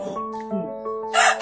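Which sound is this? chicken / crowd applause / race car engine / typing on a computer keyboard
chicken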